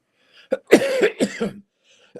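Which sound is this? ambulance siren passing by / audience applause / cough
cough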